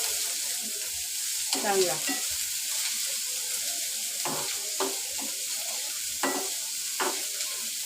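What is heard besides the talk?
dry bombil fish being roasted and stirred in pan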